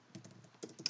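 Brief, faint burst of computer keyboard typing: a few soft, irregular key clicks, then two sharper taps near the end, alone with no voices.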